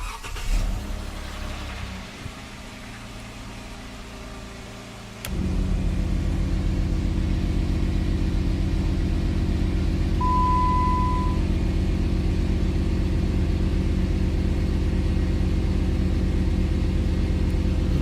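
An air compressor mounted on a Jeep Wrangler kicks on with a sudden jump in level, then drones steadily and loudly over the idling vehicle engine, a constant close mechanical hum with no talking.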